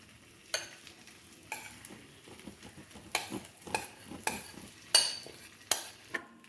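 Spanish omelette mixture of egg and potato is poured over cheese in a pan and then cooks, with faint sizzling under a series of sharp utensil clinks and scrapes against the pan at an irregular rhythm.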